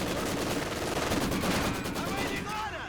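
Machine gun fire in a Company of Heroes 2 multiplayer match, sustained rapid bursts of gunfire with scattered shots and battle noise layered throughout.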